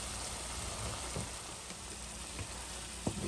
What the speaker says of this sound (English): I'm going to stir it up a little bit while it's simmering